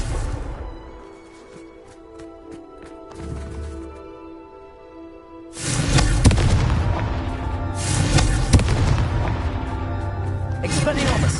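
Confringo explosive spell blast in Hogwarts Legacy, a loud booming burst midway that follows quieter combat sounds, with further heavy impacts and a voice speaking around it.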